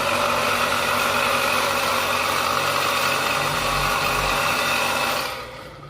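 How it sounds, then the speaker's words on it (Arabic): A household water pump motor with a worn bearing runs with a loud, close, continuous whirring hum and gritty rattle, then cuts off near the end and fades. "صوت بلي."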